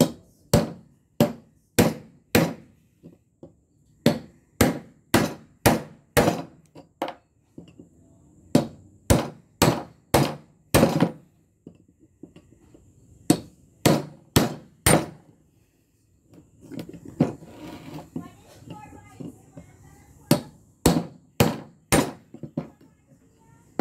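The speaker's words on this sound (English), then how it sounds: "we are going to grab the hammer" Sharp metallic strikes of a hammer on a cold chisel cutting a steel weld on a scrap transformer ring out in rapid bursts of several blows, close and loud, with short pauses and some low background noise between groups.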